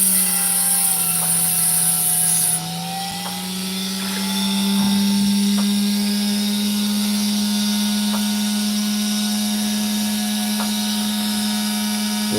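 A grinding machine works a ridge opal with a steady, loud motor drone and whine, a high hiss dropping away early on, the tone holding evenly with light scraping contact and no talk.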